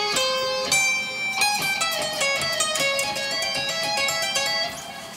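Distorted electric guitar lead solo from a shred piece, two solo sections played back to back in a continuous run of fast picked and bent notes, loud and alone with no talking.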